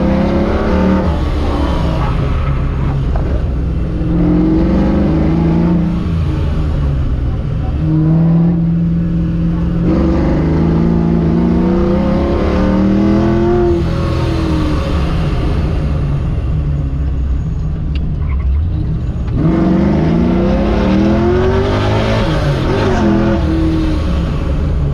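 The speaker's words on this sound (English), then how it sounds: "guys, we're about to do the drag race" Drag race cars at LS Fest rev and accelerate in repeated surges, engine tones rising and falling through the clip with a rumbling background and occasional faint voices.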